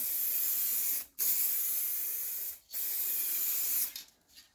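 A spray gun lays a heavy wet coat of paint on old Mopar bodywork, giving three long, close hissing bursts split by brief pauses, the last trailing off in short puffs.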